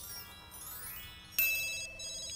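In The Sims 2, a single electronic phone ring starts abruptly and holds briefly as a bright tonal chime, then fades slightly over soft background game music.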